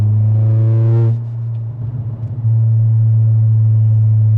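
A 2023 Acura Integra A-Spec with a full 3-inch stainless DC Sports catback exhaust drones loudly at idle, briefly revs and drops, crackles, then settles back into a deep steady rumble.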